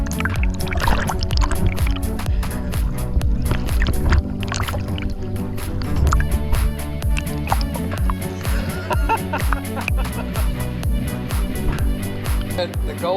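Continuous splashing and churning water as swimmers are towed by a canoe on a lake, with paddle-like sloshing and people talking over it, steady and close throughout.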